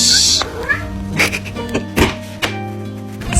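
A house cat meowing in a kitchen early in the morning, several loud, close meows and chirps in quick succession, mixed with a few soft thumps of movement nearby.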